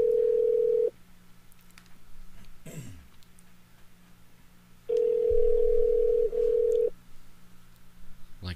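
A telephone ringback tone during a call, with two long steady tones separated by a pause, loud and close. A brief cough and some faint background noise fall in the gap.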